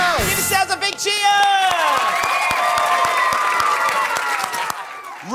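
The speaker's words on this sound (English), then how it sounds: "Give yourselves a big cheer." A children's studio audience at a TV show cheers and whoops loudly, shrill kids' shouts and clapping swelling into a sustained roar, with an adult voice briefly audible at the start.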